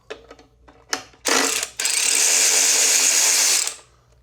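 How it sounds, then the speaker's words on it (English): A half-inch ratchet removes the horn bolt on a Harley-Davidson motorcycle: a few light clicks and taps, then a close, loud burst of sustained whirring for about two seconds before it stops. "Half inch, takes this bolt off."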